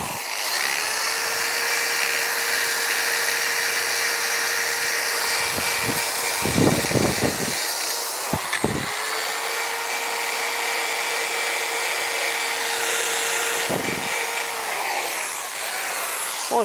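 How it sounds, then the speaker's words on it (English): A slow-running electric drill whines at a steady pitch for long stretches, stopping and restarting, with a few bumps and knocks of work on a wooden gargoyle letterbox in between, close and moderately loud. "It's a really slow drill."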